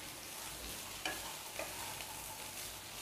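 Okra and onions stir-fry in a pan with a soft continuous sizzle, broken by a couple of brief scraping stirs near the middle.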